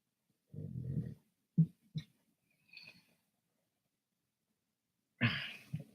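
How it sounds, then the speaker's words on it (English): Dogs indoors let out a few short, gruff barks and huffs separated by quiet pauses, close by, with a louder burst near the end and no speech. "these dogs are about to drive me crazy"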